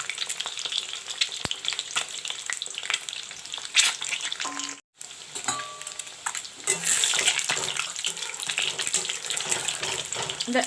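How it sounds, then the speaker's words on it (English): Slit eggs sizzle and crackle in hot oil in a village-style kitchen, a dense frying hiss broken by a brief pause, then stirring and fresh bursts of sizzling. "Now I'll put in the eggs to fry."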